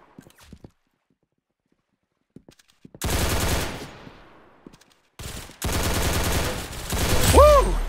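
Rapid gunfire breaks out after a near-silent stretch, two long, loud, continuous bursts of automatic shooting separated by a brief pause, with a short rising whistle-like tone near the end.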